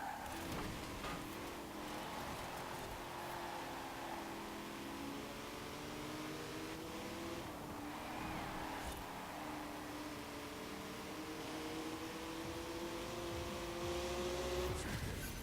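Race car engines rev and shift in Forza Horizon 4 on Fortune Island, including a BMW. Rising, falling engine whines layer over each other in a steady, fairly faint drone, with no voices.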